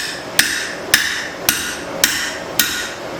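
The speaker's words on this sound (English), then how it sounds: "Alright, let's drift this out." Five evenly spaced sharp metallic hammer blows ring out alone as a drift is driven through hot spring steel for a cleaver, each strike bright and close, about half a second apart.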